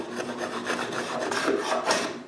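A miniature hand plane rounding over the sharp corners of a small glued wooden box: a steady, continuous scraping rasp of blade on wood, close and fairly loud, with no speech.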